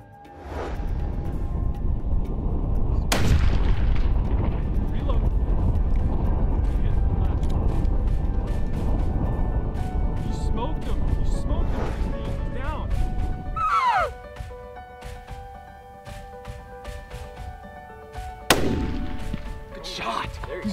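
A rifle shot cracks out during an antelope hunt, a sharp loud report followed by a second distant boom, over steady outdoor wind and movement while people speak excitedly nearby.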